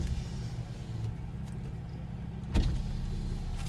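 A car's power window hums as it moves, a faint motor whine under steady road and cabin noise, with a brief thump near the end.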